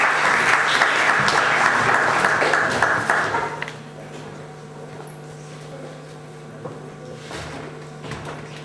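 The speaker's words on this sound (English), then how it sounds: "Can we please a round of applause for our chairman" Audience applause in an auditorium greets a chairman arriving to give an opening speech, a dense burst of clapping lasting about three seconds before it abruptly dies away into quiet room tone.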